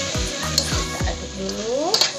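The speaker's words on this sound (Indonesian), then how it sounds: "kita aduk-aduk sampai meresap ini bumbunya ke udangnya juga ikut ya" Shrimp frying in spicy Padang sauce sizzles steadily in a pan while a utensil stirs through it with several scraping strokes, close and clear without talk.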